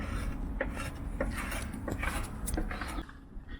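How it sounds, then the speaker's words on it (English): A carbide scraper works along a boat's bottom, giving close, uneven scraping and rasping strokes with short gritty bursts and a few knocks. "They are good though, those carbide scrapers."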